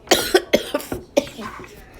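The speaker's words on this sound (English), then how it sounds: "I hate coughing." A quick run of coughs, six or seven short harsh bursts close to the mic, tapering off into softer throaty hacks.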